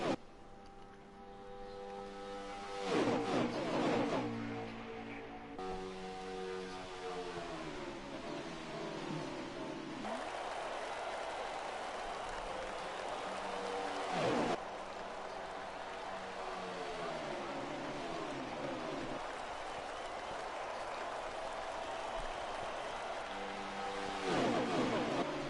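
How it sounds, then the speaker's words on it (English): Roughly two dozen ARC stock cars race around the Talladega oval, their engine notes rising and falling in overlapping passes as the pack roars by, steady and loud throughout, with a few sharper swells as cars sweep close. "Just take a moment to appreciate the sounds of the cars, the sounds of 20 odd cars"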